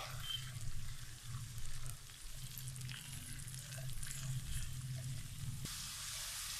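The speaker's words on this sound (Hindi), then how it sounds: "अब हम इसमें प्याज डालेंगे और इसे 3 मिनट तक पकाएंगे।" Chopped onions fry quietly in a pan for an aloo chicken samosa filling, giving a faint, steady sizzle over a low background hum with no talking.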